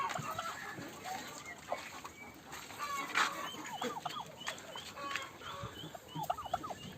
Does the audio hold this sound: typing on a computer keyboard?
no